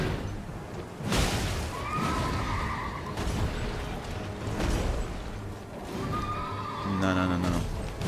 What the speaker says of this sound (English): If you're gonna resummon your horse